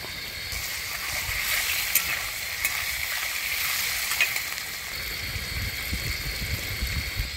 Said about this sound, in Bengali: মশলাটা হালকা আমাদের ভাজা হয়ে গেছে, সাথে আলুগুলো মোটামুটি একটু নরম হয়ে আসছে